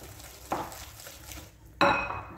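Flour being stirred bit by bit into crisp biscuit dough in a bowl, with soft scraping and two sharper knocks or clinks of the utensil, close and fairly quiet.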